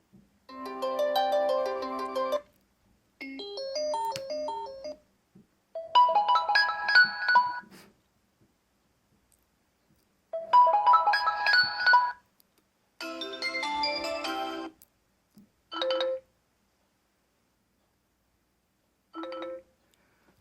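Short bursts of music play through the small built-in speakers of OnePlus 3 and Xperia X Performance smartphones, thin and tinny, separated by silent gaps, with no talking.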